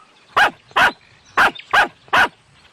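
Five sharp dog barks ring out in a cartoon street, evenly spaced and loud, each short and close, with near silence between them.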